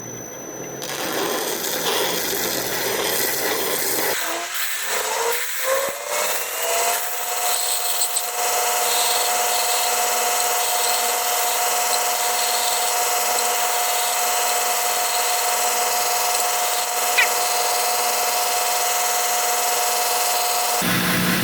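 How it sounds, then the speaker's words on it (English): An electric sander spins up after some handling noises and then runs at a steady whine on small cigar kit parts, with a brief scrape of contact late on. "we'll hit these with the sander real quick"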